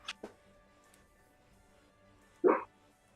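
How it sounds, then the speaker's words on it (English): A sleeping dog dreaming gives two short, faint yips near the start, then a louder muffled bark-like woof later, each isolated against a quiet room hum. "My dog is dreaming."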